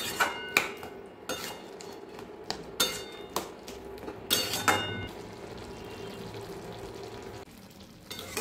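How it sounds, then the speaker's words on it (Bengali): Poppy seed paste being stirred into pumpkin and potato in a pan, a spatula clinking and scraping against the metal in repeated strokes over a low sizzle, fairly close with no talking. "সব একসঙ্গে ভালো করে মিশিয়ে নেব"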